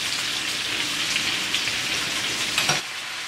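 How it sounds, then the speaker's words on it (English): Fresh sliced mushrooms sizzle steadily in a hot pan with chicken marsala cooking, a constant frying hiss, with one brief louder scrape of stirring near the end. "I'll add in 2 cups of fresh sliced mushrooms. I'll stir it around."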